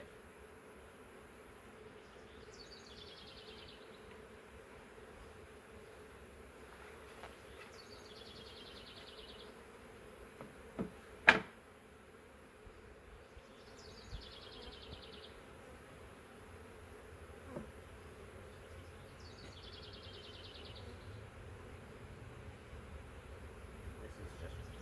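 Honey bees from a large swarm buzz steadily around swarm trap frames being moved into a new hive, a low, continuous outdoor drone with a few brief knocks and a sharp click partway through.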